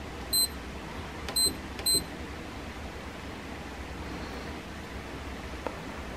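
Three short electronic beeps from an LED desk lamp's alarm sound early on, evenly spaced and fairly sharp, over a faint steady hiss, then only quiet background remains.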